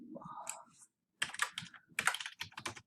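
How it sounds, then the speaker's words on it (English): Typing on a computer keyboard: bursts of quick, close clicking keystrokes in irregular clusters, separated by a brief pause, with no voices. "I'm going to keep typing my answer"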